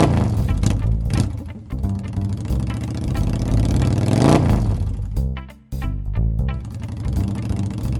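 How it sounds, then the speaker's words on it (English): A Transformers Bumblebee toy in motorcycle mode gives a loud electronic engine rev, a rising and falling whine that drops out briefly, then resumes at a steady pitch. "Shaggy, what are you doing on that motorcycle?"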